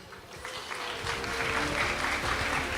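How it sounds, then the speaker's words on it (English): Audience applause for pageant delegates leaving the stage at a Miss Aura International event, a steady crowd clapping that swells and holds over the whole stretch. "Let's give applause to these amazing delegates who are leaving the stage."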